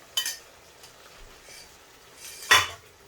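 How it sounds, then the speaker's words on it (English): Stirring ingredients together in a pan while cooking garlic chilli korai balti chicken tikka gives two brief metallic clinks, a utensil scraping against the pan, with quiet gaps between them. "Let me mix that in."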